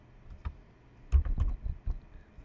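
Typing a file path on a computer keyboard, a short burst of close, crisp key clicks in an irregular cluster with a brief pause near the start.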